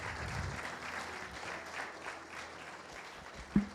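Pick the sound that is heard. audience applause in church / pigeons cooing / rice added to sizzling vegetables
audience applause in church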